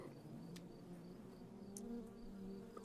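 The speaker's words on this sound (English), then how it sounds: "My failed attempt appeared to have aroused some busy bees, as I began to hear a buzz" Buzzing bees in the game Redboon, a steady low insect drone with faint higher hum, continuous and moderately near, with a few brief clicks over it.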